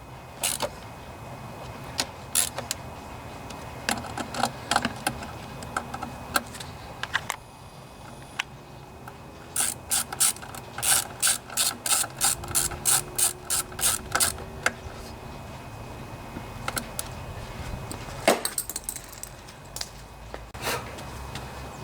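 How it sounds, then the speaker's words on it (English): A ratchet wrench tightens bolts evenly on a Honda EU2000i portable generator that won't start after storage: bursts of close, sharp ratcheting clicks come in quick runs separated by pauses, with one long rapid series in the middle. "I'll go ahead and tighten up these first, back and forth evenly."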